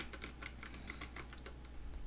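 Soft, quick keyboard typing, a steady patter of clicks heard faintly against a low background hum.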